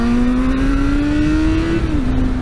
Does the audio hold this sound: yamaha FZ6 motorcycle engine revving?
yes